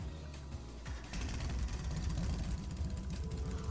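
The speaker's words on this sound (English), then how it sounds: "Right then, first is starting up the engine." Motorcycle engine starting up in the video game Trails of Cold Steel, a low rumbling idle that swells after about a second and holds steady and loud, with music-like tonal layers underneath.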